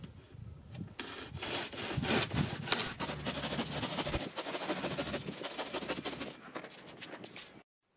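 A styrofoam insulation piece is cut by hand with quick, rhythmic rasping saw strokes, close and fairly loud, stopping abruptly at the end.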